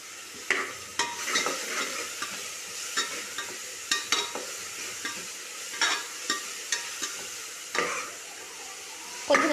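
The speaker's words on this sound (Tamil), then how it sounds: "சால்ட் சேர்த்துட்டு கொஞ்சம் வதக்கிக்கிறேன்" Salt and curry leaves are sautéed in a pan for country chicken gravy, giving a soft, steady sizzle punctuated by frequent sharp spatula scrapes and taps in an uneven stirring rhythm.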